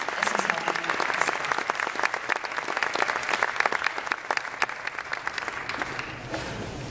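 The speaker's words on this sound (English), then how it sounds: "So can we give him a round of applause as well" A high school auditorium audience at an all-district SATB choir event gives sustained applause, dense, crackling clapping from many hands that holds steady for several seconds before easing off.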